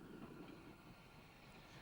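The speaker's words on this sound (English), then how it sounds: "Our train is proceeding along Folkestone Warren" A 1920s steam train of the South Eastern and Chatham Railway runs along Folkestone Warren below the cliffs between Folkestone and Dover, giving a steady, continuous rumble of rolling stock with no voices.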